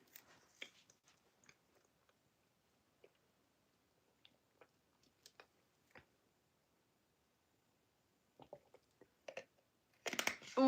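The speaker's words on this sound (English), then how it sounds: "Do I chew too loud?" Chewing and crunching from a person eating on a livestream, sparse soft mouth clicks and squishes close to the microphone, growing busier and louder near the end.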